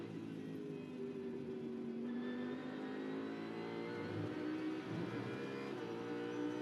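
GT race car accelerating at Oschersleben during an ADAC GT Masters race, heard onboard as a loud engine note climbing steadily in pitch through the gears, with gearshift dips and other cars nearby.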